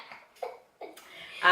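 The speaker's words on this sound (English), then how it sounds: "I coughed." A single short cough from a girl during a no-burping challenge, close and fairly quiet, with brief voice sounds just before it.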